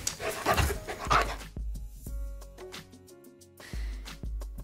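A Samoyed puppy pants and lets out several short, close barks and whimpers, with a few quiet clinks and thumps in between and no talking.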